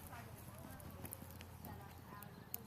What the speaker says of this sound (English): What a pretty horse.